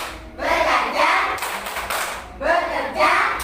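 Pupils in a classroom perform the 'tepuk sukses' clap chant, rhythmic group hand claps blended with children's chanting voices, arriving in two lively bursts close by.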